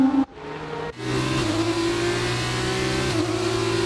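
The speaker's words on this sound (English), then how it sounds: "There we go, blown engine." A Formula 2 race car's engine in the F1 2019 racing game at the Baku street circuit, its high, steady revving drone holding loud and close after a sharp cut near the start, then dipping briefly as the pitch shifts.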